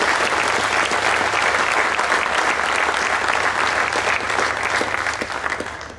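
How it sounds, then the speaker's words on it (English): Loud, sustained crowd applause fills a cattle show ring after a class of Holstein dairy cows at an Ontario summer show, continuing steadily before thinning slightly at the end. "Let's give this group of cows one big round of applause."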